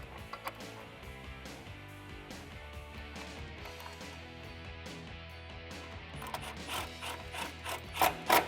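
A nylon lock nut is tightened onto a bolt of a 2009-2014 Ford F150 HD Elevation front bumper, giving a continuous metallic ratcheting and grinding that swells into louder bursts near the end.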